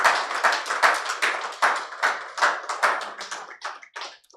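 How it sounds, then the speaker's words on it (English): A small audience at a Nigerian health report launch claps for a speaker, a close, sparse round of individual handclaps in an uneven rhythm that gradually thins out and stops. "a resounding applause for Dr."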